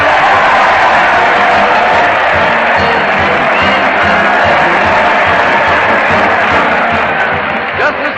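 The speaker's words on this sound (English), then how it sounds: "Just listen to that crowd cheer Fred Allen as he leads his weekly parade to" A large crowd at a Town Hall radio broadcast cheers and roars continuously, a dense wash of voices and applause that stays loud throughout before easing slightly at the end.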